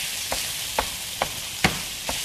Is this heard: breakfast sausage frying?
yes